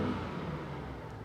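LS/Vortec pickup truck engine revving on cold oil with a failing oil pickup tube O-ring, a brief close rumbling rise in revs that settles back, no talk.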